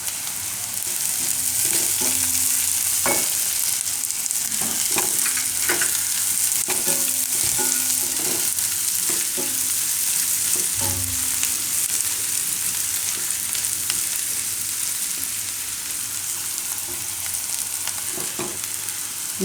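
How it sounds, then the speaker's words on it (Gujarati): Green garlic frying in a pan for a Himachali redu dish, a loud, continuous hissing sizzle with occasional stirring clatter throughout. "ને આ લસણ એમાં નાખી દે હું લીલું."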